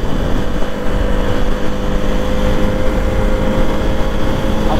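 A motorcycle engine idles fresh after an engine oil change, giving a steady, even rumble with a faint whine on top, close and unbroken throughout without talk.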